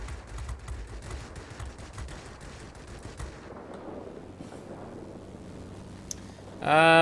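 Rapid bursts of aircraft machine gun fire from a Ju 87 D-5 Stuka dive bomber in a warplane combat game, loud and dense for the first few seconds, then fading into engine drone.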